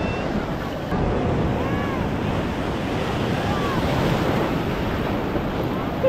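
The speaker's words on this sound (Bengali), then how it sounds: "বাবা এখানে ঢেউ দেখো" Sea waves at Puri beach surge and wash in a continuous loud roar, with gusting wind buffeting the microphone close by.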